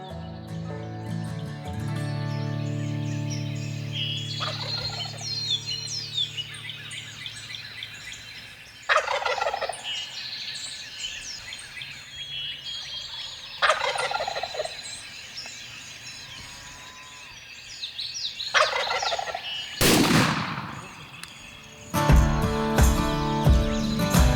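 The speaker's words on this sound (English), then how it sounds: "gobblers all across the countryside are making noise" Wild turkeys gobble repeatedly in loud bursts, several calls ringing out across open Missouri countryside in spring, with other birds chirping in the background.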